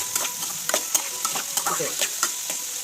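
A spoon stirs prawn curry through fried onions in a pan, scraping out irregular clinks and shuffles over a steady close sizzle, with no talking.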